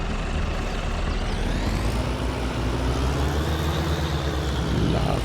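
A deep, steady tractor engine rumbles at idle in a video game, loud and constant throughout with no voices.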